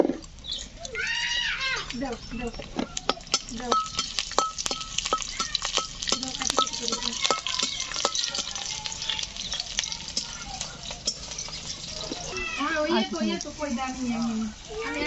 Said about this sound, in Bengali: রসুন কুচিগুলো দিয়ে দেবো।